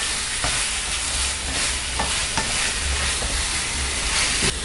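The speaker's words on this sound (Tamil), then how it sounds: "இப்போ நம்ம சிக்கனை போட்டு வதக்கிக்கலாம்" Chicken pieces sauté in a pan for chicken salna, giving a steady close sizzle and frying hiss with occasional scraping stirs, alone without voices.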